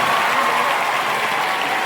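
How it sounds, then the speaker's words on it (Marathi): Enthusiastic audience applause welcoming a guest lecturer onto the stage at a public talk in Sangli, a steady dense clapping that fills the whole moment without letup. "हंकारेकरांचा जोरदार टाळ्यांचा स्वागत करायचं"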